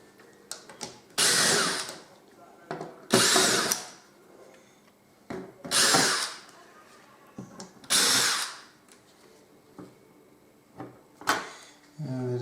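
A power drill fitted with a small screw bit backs screws out of a scrapped appliance, four loud whirring bursts of about a second each, separated by pauses with faint handling clatter.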